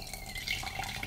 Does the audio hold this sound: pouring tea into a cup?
yes